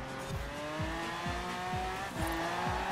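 A Lamborghini Aventador races in a video game on the Goliath course, its engine droning steadily while rapid rising tones repeat through quick upshifts, with no talk over it.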